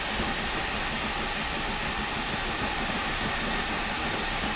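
Steady loud rushing hiss of a 2MT steam locomotive engine in Train Simulator on Scottish western lines, a continuous noisy roar with no clear beats and no talk.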